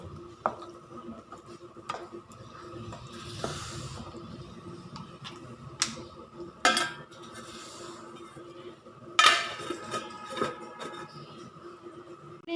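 Prawns roasting in a pan are stirred and then covered with a lid, giving scattered soft scrapes and clinks over a low hum, with a few sharper metallic knocks near the end.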